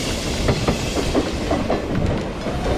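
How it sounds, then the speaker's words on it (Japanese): A train rumbles and rattles past through JR Kyoto Station at steady volume, wheels clacking rhythmically over the tracks, close by and continuous throughout. "まあ駅だから仕方ないですよね、電車通るのは。"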